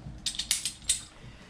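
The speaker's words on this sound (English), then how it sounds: "So from here, I'm gonna take my pulley." Metal climbing pulley and locking carabiner handled during a crevasse rescue setup: a quick run of five or six light metallic clicks and clinks, close and fairly soft, with no talk.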